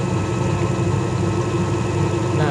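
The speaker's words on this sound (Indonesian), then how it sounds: "Ini sekarang saya nyalakan pada RPM rendah." A centrifugal pump running at low RPM on a lab test rig, a loud, steady motor hum and drone with a constant low vibration throughout.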